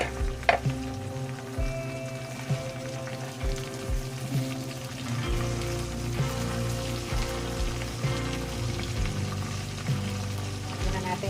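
Ingredients for a salmon dish fry in a pan with a steady crackling sizzle, mixed with intermittent stirring clatters and utensil knocks, fairly close and moderately loud.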